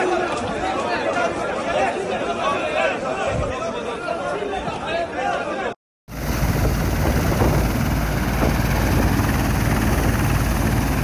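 A helicopter deployed to an attack scene in Israel thuds loudly and steadily, with crowd chatter and speech over the first half, then a brief cut before the rotor roar carries on alone.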